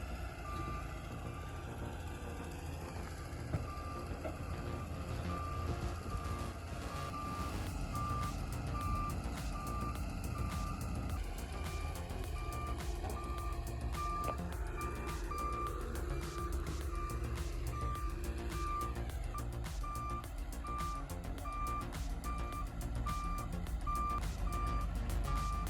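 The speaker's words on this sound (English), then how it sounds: "Backing a 30-ton load off a rail car takes guts, finesse, and pure instinct." A truck backs a 30-ton load off a rail car, its reversing alarm beeping steadily in an even rhythm over a loud, constant low diesel rumble, with occasional clanks and no voices.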